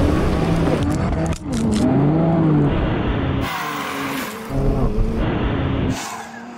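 A BMW X3 M and a Porsche Macan GTS launch from a standstill, engines roaring close by with rising revs and gear changes and a brief squeal of tyres.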